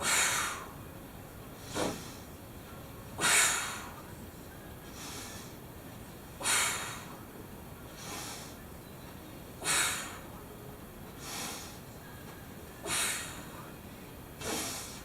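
Forceful exhalations during V-up ab exercises, about nine sharp breathy puffs spaced roughly every one to two seconds, close to the microphone, alternating stronger and softer blasts with no talking.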